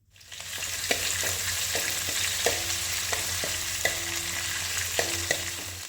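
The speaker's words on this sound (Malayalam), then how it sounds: "ഇനിയിപ്പിതാ ഇതിലേക്ക് കറിവേപ്പില, പച്ചമുളക്, ഇഞ്ചി, വെളുത്തുള്ളി ചതച്ചത് ഇതെല്ലാം ഇട്ട് കൊടുക്കേണ്ടത്. ഇതിട്ട് കൊടുത്തതിന് ശേഷം നമുക്കൊന്ന് വഴറ്റിയെടുക്കാം." Curry leaves, green chili, ginger and crushed garlic sauté in a pan for a Kannur-style crab roast, giving a steady close sizzle broken by light, intermittent spoon scrapes and taps, with no talking.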